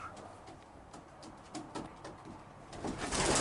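Racing pigeons in a breeding loft give soft, low cooing in repeated short bursts, fairly close and steady against a faint background hiss that grows toward the end.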